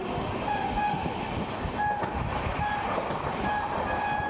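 The Gangasagar Express, running with new LHB coaches, rumbles steadily past Dum Dum Junction, its continuous rolling roar heard from on board with faint tonal squeals over it.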